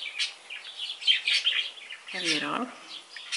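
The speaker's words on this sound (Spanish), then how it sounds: "Si escuchan mucho mis pajaritos, es que los tengo que hacer aquí pegados." Pet birds kept close by chirp and tweet continuously in bright, rapid bursts, loud and near, while someone speaks briefly over them.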